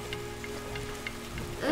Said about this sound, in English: Look at the rain drops coming.